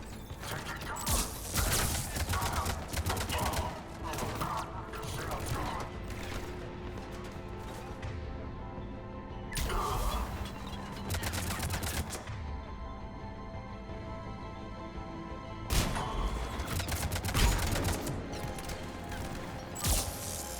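Gunfire in Mass Effect Legendary Edition combat: bursts of shots, crashes and mechanical clatter recur throughout, loud and dense, with voices in the game.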